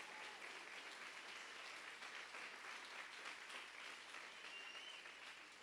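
A church congregation applauds, with dense, steady clapping that holds at an even level for several seconds with no voices over it.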